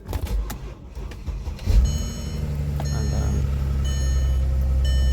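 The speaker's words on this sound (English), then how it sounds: "this is the first time I'm starting this car today" A 2006 Mercedes ML350 SUV engine with a crankshaft sensor fault cold-starts and settles into a steady, low idle hum, with a faint electronic beep chiming repeatedly over it.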